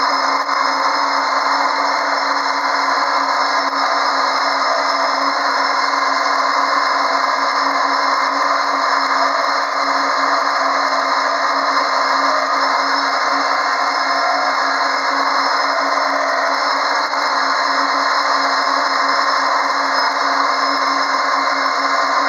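A lathe gouge taking light cuts across a spinning cocobolo wood pen blank, giving a steady, continuous hiss and scrape close up, unbroken for the whole stretch with no talk.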